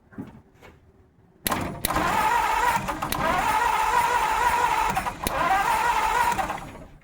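A 1950 Ford F1 truck engine cranks and churns steadily for several seconds with a whirring starter, briefly dipping, but never clearly catching into a running idle; the coil is not hot.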